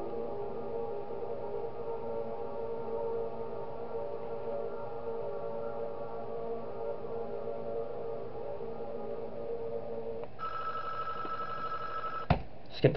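A steady electronic phone ring tone from the video game Five Nights at Wario's drones on and on, then shifts to a higher warbling tone near the end, followed by a couple of sharp clicks.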